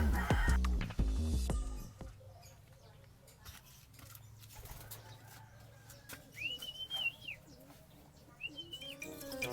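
Farm fowl call out at feeding time, with honking, goose-like cries and a few chirps rising over a dense, loud burst of clucking at first, then scattered calls over quieter background with occasional talk.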